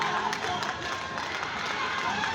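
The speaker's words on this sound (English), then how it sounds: "today the crowd is more active and more energetic" Distant cricket-match crowd noise carrying up to a flat balcony, a continuous roar of cheering voices with no breaks.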